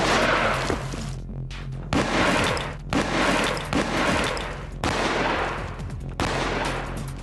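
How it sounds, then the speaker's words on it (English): A reproduction cannon fires from point-blank range at an unreinforced brick wall, a series of loud, booming blasts roughly once a second, each followed by a short crashing decay, with no talking. "Each side will be shot at from point-blank range with this reproduction cannon."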